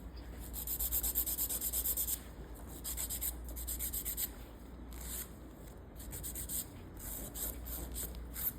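Nail file rubbing back and forth over a nail tip while finishing the shape, fast rasping strokes in short bursts with pauses, close and quiet, no talking.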